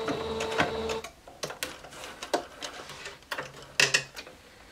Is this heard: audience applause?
no